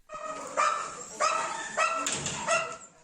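Stray dogs at a temporary holding shelter bark loudly in a rhythmic series of about five barks, while a chorus of other dogs yaps continuously in the background.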